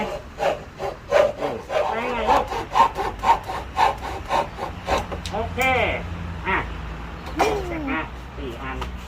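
A hand saw cuts through wood for a DIY wooden toy truck in quick, rhythmic back-and-forth rasping strokes, close by, as voices chat over the work.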